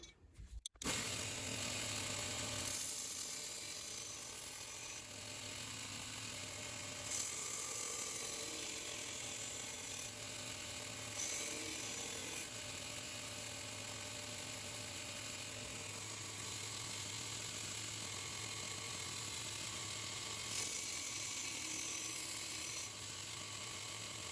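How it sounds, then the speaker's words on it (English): Belt grinder running a used 60 grit belt grinds 45-degree bevels into a knife blade, a steady close mechanical whir and rasp that rises slightly in bursts as the blade is pressed to the belt. "I'm going to be using a 60 grit used belt to cut in 45-degree bevels."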